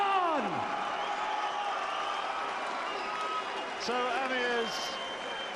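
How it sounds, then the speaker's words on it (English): Boxing arena crowd applauding and cheering for Bolton lightweight Amir Khan after his win, a steady roar of applause beneath a ring announcer's voice. "Please, a round of applause."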